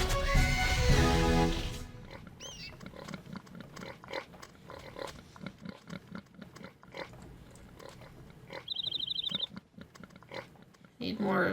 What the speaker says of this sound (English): I usually play with the sound off, so I didn't realize these guys make constant pig snorts.